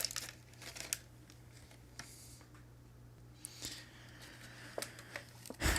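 Plastic clamshell packaging for Maisto Team Haulers die-cast models is pried apart and its tape peeled, making scattered crinkles, snaps and tearing crackles up close, with a sharper crackle at the end.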